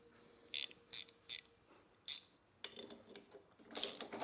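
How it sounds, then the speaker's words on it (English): A 19 mm wrench ratcheting on Datsun front suspension parts, with several sharp separate clicks followed by longer metallic ratcheting bursts, close and fairly loud. "using that 19 mil wrench"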